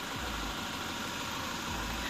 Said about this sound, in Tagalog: Ayan o, tumutunog yung makina niya ngayon, no? Pakinggan nyo yung makina niya.